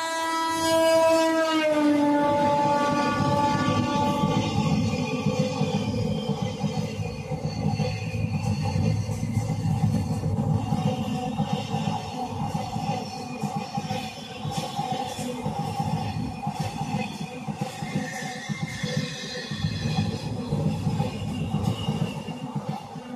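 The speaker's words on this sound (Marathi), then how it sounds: "लोकमान्य टिळक टर्मिनस लातूर एक्सप्रेस जी रविवारी चालते ती ही गाडी आहे." The Lokmanya Tilak Terminus–Latur Express blows a long horn blast up close, then its wheels rumble and clatter steadily along the track in the rain for the rest of the passage.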